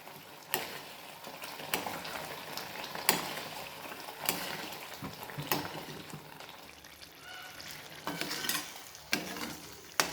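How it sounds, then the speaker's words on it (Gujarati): Sev usal curry sizzles and fries in a pan while a spoon stirs it in a slow, regular rhythm, each scrape and knock standing out over the quiet, steady frying. "આપણે ધીમે ધીમે તેને હલાવતા રહીશું જેથી નીચે ડાજે નહીં"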